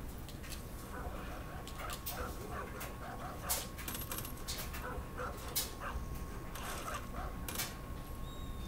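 A dog in the Far Cry New Dawn video game barks in short yips and whimpers in scattered bursts, moderately close, while a person talks over the game sounds.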